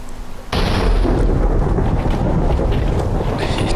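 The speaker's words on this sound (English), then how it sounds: "It's not just raining, we have a thunderstorm" Video-game thunderstorm over a swamp: a quiet rain hiss, then a sudden loud crack of thunder that rolls into a sustained, heavy rumble over steady downpour.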